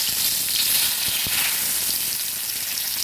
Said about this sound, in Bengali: এবার দিয়ে দেবো দেখুন শুকনো লঙ্কা ফোড়ন আর দিয়ে দিচ্ছি একটা তেজপাতা